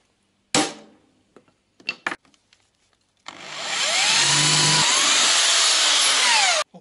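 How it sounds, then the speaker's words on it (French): A power drill bores a hole at the right diameter through a metal trunk bracket on a Citroën Traction 11B. A few sharp taps come first, then the drill runs alone as a loud, steady whirring whine for about three seconds. "Donc on perce au bon diamètre."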